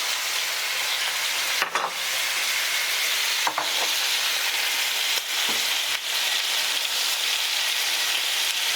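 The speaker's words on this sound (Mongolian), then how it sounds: "хоёр талаас нь бүрэн болохгүй зөвхөн өнгө хэсгийг нь одоо шарж өгч байгаа шүү" Teriyaki meat frying in a pan while being browned on both sides, a steady loud sizzle with a few sharp scraping and turning clicks spaced through it, and no talking.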